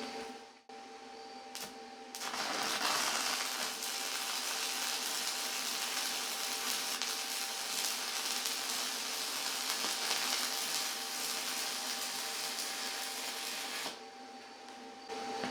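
CT2050 stick welder running an arc at 70 amps with arc force 30, a steady loud crackling hiss lasting about twelve seconds after a brief start, close up with no talk.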